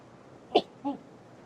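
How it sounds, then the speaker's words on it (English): A single sharp human sneeze indoors, two quick bursts in under half a second, close to the microphone against a quiet background. "I'm so sorry about the sneeze."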